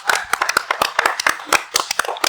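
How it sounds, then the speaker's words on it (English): Close, sharp hand claps in an irregular quick series, a dozen or so crisp slaps with short gaps, sounding from a small group at a roundtable of singer-songwriters. "No baby claps, bro. No baby claps."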